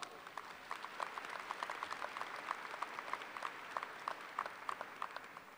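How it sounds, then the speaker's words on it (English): An audience at the Murray State University May 2017 commencement ceremony claps steadily, a soft, distant round of applause that holds for several seconds. "Would you please give them a round of applause?"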